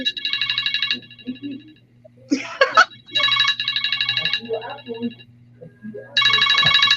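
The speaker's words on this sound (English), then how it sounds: "I don't know whose phone that is. Oh my god, it's loud." A mobile phone rings loudly in bursts of a bright, warbling electronic ringtone, repeating several times with short gaps while people talk between and over the rings.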